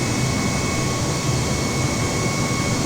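Boeing 737-800 jet engines spooling up in Microsoft Flight Simulator, a steady, loud broadband roar with a constant whine, unbroken for the whole stretch with no talking.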